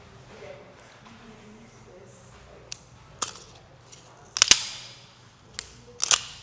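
Dry-fire trigger pulls on a pistol during indoor practice, a handful of sharp, isolated mechanical clicks spaced irregularly about a second apart, close and crisp, with quiet room noise between them.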